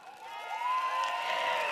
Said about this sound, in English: 让我们以热烈的掌声欢迎人民行动党盛港团队